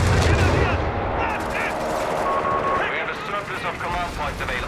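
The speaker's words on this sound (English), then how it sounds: "Infantry taking shots at us! Shoot back!" Battle gunfire aimed at infantry in Company of Heroes 3, a 4v4 Wehrmacht match, with dense overlapping rifle and machine-gun bursts rolling on steadily, mixed with shouted commands from units.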